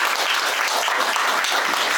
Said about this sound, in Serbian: Pa onda jedan aplauz za našu predsjednicu Vesnu Marković